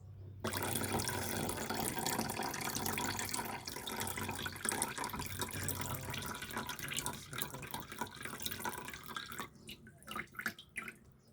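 Clean filtered water, having been through a filter from brown tap water, is poured into a pot in a steady splashing stream that runs for several seconds, then breaks into trickles and scattered drips as the pour ends.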